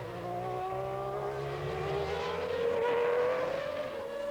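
Formula 1 cars lapping Donington during 1993 European Grand Prix qualifying, a high engine note climbing steadily in pitch as a car accelerates close by, loud and continuous.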